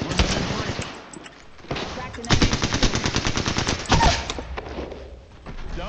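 Rapid automatic gunfire in the video game Apex Legends, bursts of loud, close shots with a sustained volley in the middle, while players talk over the action.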